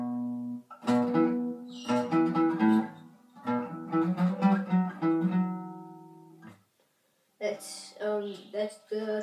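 Acoustic guitar plays the intro of Blink 182's Carousel, a run of strummed and picked phrases up close, with a short pause near the end before a brighter passage resumes.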